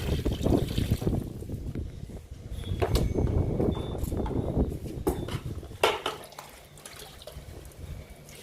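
Liquid fertilizer is poured onto potted indoor plants, a faint uneven trickle and splash of liquid with light clinks of a container, fading toward quiet at the end.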